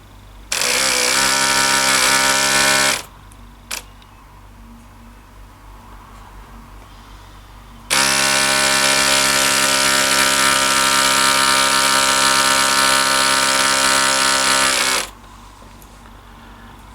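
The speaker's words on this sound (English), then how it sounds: "Let's see what happens when we power up the air pump. It's just going on to a small 12-volt battery." A small air pump for a micro ROV runs off a 12-volt battery with a loud, steady buzzing whine. It runs in two bursts, about two seconds and then about seven seconds, separated by quiet gaps, with no talking.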